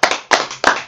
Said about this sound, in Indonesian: kita beri tepuk tangan buat kelompok 1